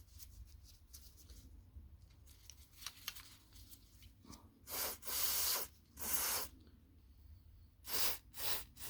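Rag wiping and cleaner spray on dirty headlight wiring plugs and cables of a Nissan Qashqai, soft rubbing at first, then several loud hissing spray bursts close by, pausing between each.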